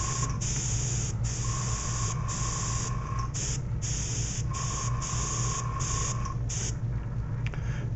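An airbrush sprays blue paint onto painted angel wings as a steady, close hiss in short bursts, with brief breaks where the trigger is released.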